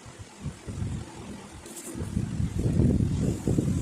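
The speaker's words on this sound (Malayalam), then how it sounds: "നല്ല കാറ്റുണ്ട്." Wind buffets the microphone in low rumbling gusts that swell and grow stronger toward the end, with no speech.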